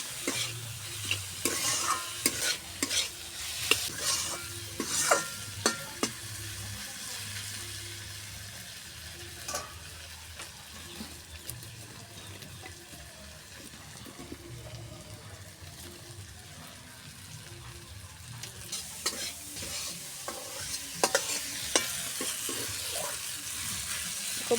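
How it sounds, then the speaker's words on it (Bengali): Fish and new potatoes with cumin powder are stirred in a frying pan. Steady sizzling runs under bursts of scraping and clattering from the utensil, close and fairly quiet. "সব কিছু একসাথে নেড়ে চেড়ে দেবো।"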